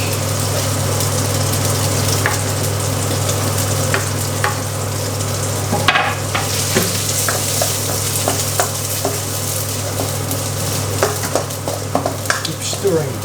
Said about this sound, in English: Keep stirring garlic so that it doesn't burn.